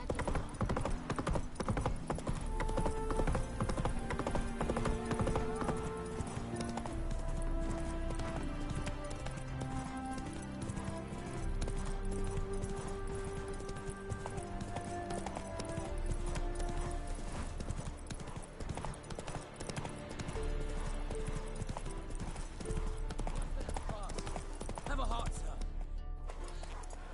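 Roach, a horse in The Witcher 3, gallops in a rapid, steady clip-clop of hooves that runs the whole way, layered over game music and occasional voices.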